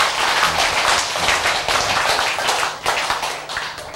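A church congregation claps together during a sermon. The dense, rapid clapping sounds close and continuous across the whole stretch.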